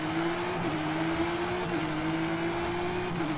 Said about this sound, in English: Muscle car, big engine, just the rumbly, just power, raw power in the engine.